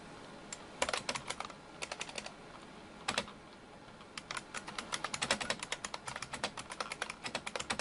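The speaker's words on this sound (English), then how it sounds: "I guess I'll retype it." Rapid clicking on a computer keyboard as a message is typed out again, scattered key presses at first then a steady run of quick taps, close and clear with no talk.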